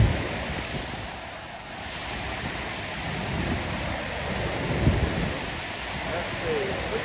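Rushing water at Kootenai Falls, Montana, swollen with snowmelt, a broad, steady roar of churning water with wind buffeting the microphone, loud and continuous throughout.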